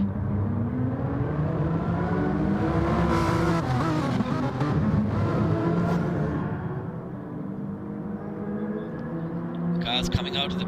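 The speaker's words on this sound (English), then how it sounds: "cars coming out of the pits" Race cars in a sim racing game at Monza roar past with continuous engine drone and revving, shifting pitch as they pass, while a commentator talks over the racing throughout.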